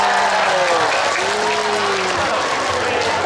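A large audience at an Islamic religious lecture bursts into dense, sustained applause that stays loud throughout, with a faint voice sounding underneath.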